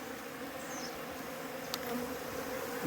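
Bees buzzing at a hive with a faint, continuous hum and small shifts in pitch as insects struggle with one another, soft and close, no voices.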